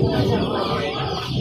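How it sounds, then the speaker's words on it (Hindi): Chickens at Lahore's Tollinton poultry market cluck and squawk in a dense, continuous chorus nearby, with several birds calling over one another throughout. "असील मुर्गे भी यहाँ पे मिल जाते हैं।"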